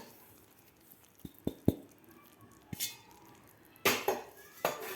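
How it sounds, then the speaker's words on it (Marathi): Peanut and sesame powder is stirred into melted jaggery in a pan, heard as a few sharp metallic clinks of a spoon against the pan and some louder scraping strokes near the end, close but fairly quiet. "तर व्यवस्थित आपल्याला हे मिक्स करायचं आहे"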